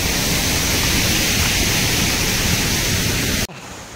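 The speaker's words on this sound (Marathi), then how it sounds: "पाणी इकडे जातं, इथून कोसळतोय आणि पाणी खाली जातंय." A small, secluded waterfall at Verna, Goa, gives a steady, loud rush of falling water close by. It cuts off abruptly near the end.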